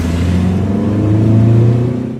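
Deep rumbling rev of a 2016 Ford Shelby GT350 Mustang's 5.2-liter V8 at Laguna Seca raceway, loud and close, swelling briefly before easing off.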